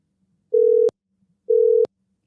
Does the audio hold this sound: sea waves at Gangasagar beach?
no